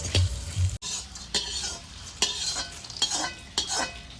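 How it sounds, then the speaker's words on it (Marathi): Triphala being lightly roasted in oil for Kolhapuri masala, with a steady close sizzle broken by repeated scraping strokes of a spoon stirring in the pan. "त्रिफळा घेतलेली आहे जी की आपल्याला हलकीशी भाजून घ्यायची आहे"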